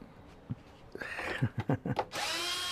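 A power drill backs screws out during a 2006 Dodge Ram gauge cluster repair, giving short whirring bursts in quick succession followed by a sustained higher whine, close and fairly quiet.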